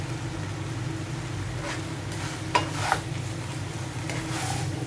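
Prawn pancit canton stirred and fried in a pan, a steady low sizzle with soft scraping strokes and a couple of brief clinks of utensil on metal, fairly close and continuous.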